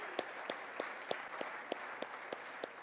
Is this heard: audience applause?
yes